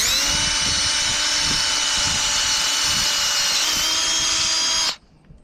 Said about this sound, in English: it takes so little effort to actually just drill another set of holes.